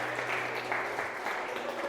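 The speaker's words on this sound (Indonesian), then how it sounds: "Kasih tepuk tangan dulu." A short burst of audience applause in a classroom after a student presentation, many hands clapping together in a steady, moderately loud wash of sound.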